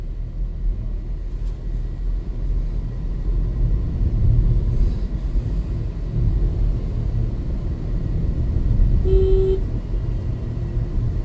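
Steady car engine and road rumble from inside a vehicle on a highway, with one short car horn honk near the end.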